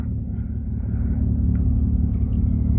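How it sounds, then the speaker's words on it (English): A loud car idles and rumbles close by with a heavy, throbbing low engine drone that swells slightly louder as it goes on, with no voices over it. "I have a loud car here"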